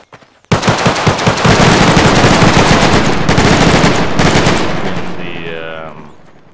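Rapid automatic gunfire from a Garry's Mod battle royale game. A burst starts abruptly and runs loud and dense for several seconds before tailing off into a fading echo.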